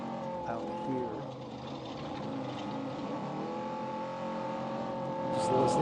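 Trophy truck engines roar and rev nearby at the Baja 1000 off-road race, their pitch sliding up and down as a loud, continuous drone builds slightly toward the end.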